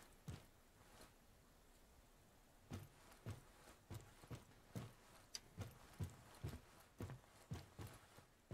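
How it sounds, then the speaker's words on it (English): Footsteps in the tactical shooter Ground Branch, heard inside a large yellow container building: a steady series of soft, fairly distant thuds in a regular walking rhythm over a quiet background. "I think I can hear footsteps inside this yellow container, the large building."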